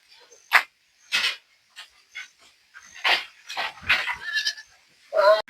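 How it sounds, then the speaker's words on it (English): Goats bleating on a goat farm: a handful of separate bleats and calls come in irregular bursts, fairly close and moderately loud, with quiet gaps between them. "So finally the goats are here."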